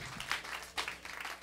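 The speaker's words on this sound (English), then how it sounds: "Let's give him a nice round of applause." Audience clapping at a live blues show in a Chicago lounge, a brief, faint burst of applause swelling and dipping under room noise.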